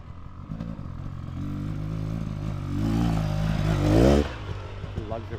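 A 2024 Beta Xtrainer dirt bike engine lugs at low revs up a hill, a loud, close, uneven chugging that climbs and strains before a brief rev and a drop-off near the end.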